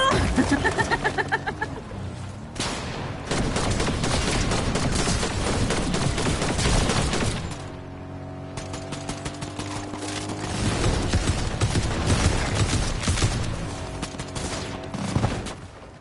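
Rapid video game gunfire rattles in dense bursts with a sustained fusillade, loud and close, as a voice talks over it.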